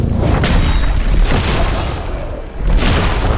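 A game explosion from Marvel's Midnight Suns, a loud low boom with rumbling bursts rolling through the whole stretch and a second swell near the end.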